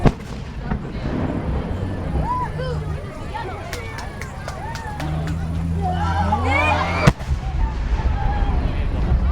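Kirakira Kaleidoscope fireworks at the Mito Komon festival burst in a rapid run of sharp cracks and booms, ending in one loud bang near the close, while a crowd chatters and talks throughout.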